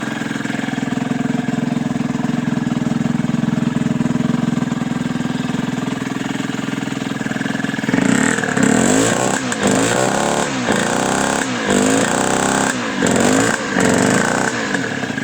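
A rebuilt Derbi Senda moped engine runs steadily for about eight seconds, then bursts into loud, choppy revving with repeated blips and cuts, close by with no talk.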